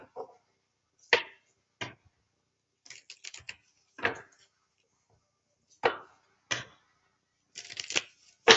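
Tarot cards being shuffled in quick, separate bursts of riffling and snapping, each lasting a fraction of a second with brief quiet gaps between them, close up with no talking.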